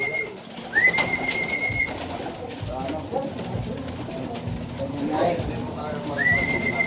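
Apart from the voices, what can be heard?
pet pigeons being fed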